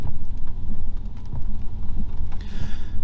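Steady rain drums on the body of a BMW i4 electric car, a dense, even hiss with low rumbling underneath, continuous and close throughout with no talking.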